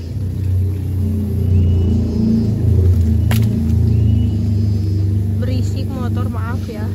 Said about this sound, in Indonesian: Berisik motor, maaf ya.